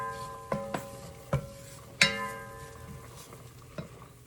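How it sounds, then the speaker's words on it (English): Garlic, onions and all-purpose flour being stirred in a pan, with several sharp metallic clinks of a utensil against the pan over a faint cooking sizzle. "To the garlic and onions, I'm gonna add in 1/4 cup of all-purpose flour. Sprinkle that across, and we're gonna stir that and let that cook"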